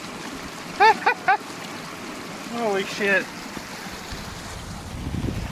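Floodwater from an overflowing creek pours across a road in a waterfall-like cascade, a steady broadband rush running throughout while a man lets out short exclamations and speaks briefly over it.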